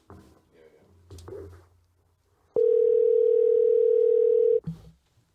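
A steady telephone dial tone hums for about two seconds while a call is placed, following brief muffled voices and handling noises, then cuts off abruptly.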